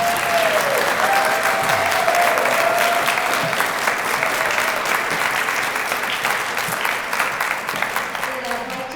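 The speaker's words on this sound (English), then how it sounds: "Have another short round of applause." An audience claps steadily through a short round of applause at a Martin Luther King Day remembrance event in Wellesley, dense and even throughout with faint voices mixed in and a gentle tapering toward the end.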